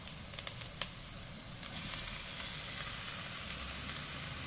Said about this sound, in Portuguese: nossa cebola, nosso alho já está dourando. Já podemos colocar o nosso tomate